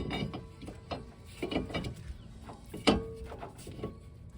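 New brake rotor being fitted onto the hub of a 2008 Toyota RAV4 Sport AWD, faint metallic clinks, scrapes and knocks in an irregular sequence, close but quiet.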